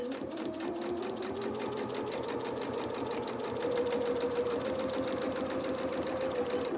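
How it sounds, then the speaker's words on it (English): Sewing machine stitching fabric for a small doll's twirling dress, the fabric guided past the presser foot. A close, continuous motor whir with rapid needle chatter runs steadily throughout, growing slightly louder and higher partway through, with no voices. "I'm matching up my fabric going through the same place on my presser foot the whole time"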